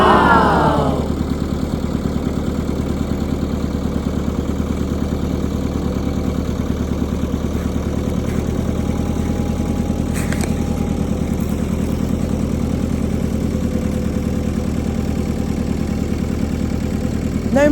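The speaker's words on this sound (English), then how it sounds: "Look at that go. What a beautiful tractor." A tractor engine idles and chugs steadily at close range, a continuous low mechanical rumble with no talking.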